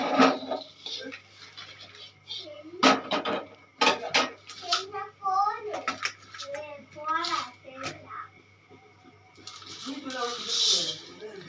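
Roasted chana dal is tipped from one pan into another vessel, with sharp metallic scrapes and clinks of a spoon against the pots, broken up by a voice talking between the clatter.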